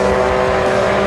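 Mitsubishi rally cars accelerating hard at a Costa Rican club rally, a loud sustained engine roar with a steady pitched drone, close and dense for about a second.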